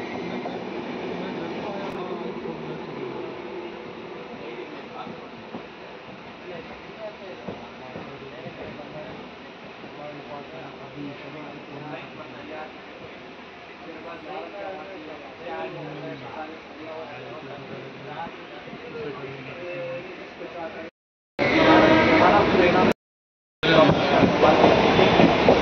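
A train pulls out of Bengaluru Cantonment railway station, its steady rolling rumble and rail clatter running continuously, with voices talking over it and a louder burst of noise near the end.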